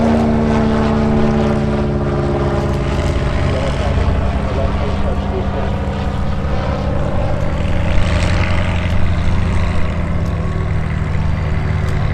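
A light propeller airplane drones loudly and steadily while landing on a runway at the Oshkosh AirVenture fly-in, its engine tone continuous with a slight shift partway through, and radio-style talk mixed beneath it.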